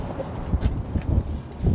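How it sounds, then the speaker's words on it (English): Gusty wind buffets the microphone outdoors beside a two-car trailer being fitted with a winch, giving a rough, low rumble that swells and drops in uneven gusts throughout. "Excuse the wind, it's pretty windy out right now."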